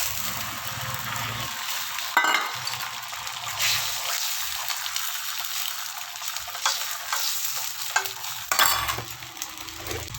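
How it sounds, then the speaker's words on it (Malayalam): An egg fries in a hot, oiled pan with a continuous sizzling hiss. A few clinks and scrapes of a utensil against the pan punctuate it at close range. "മുട്ട അങ്ങനെ പൊരിച്ചെടുക്കുക."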